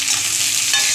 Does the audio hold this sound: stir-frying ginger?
yes